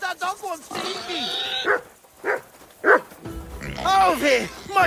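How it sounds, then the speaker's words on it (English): In Kingdom Come Deliverance 2, a dog barks and yelps several times in close, loud bursts, mixed with a voice and game sounds. "That dog wants to eat me!"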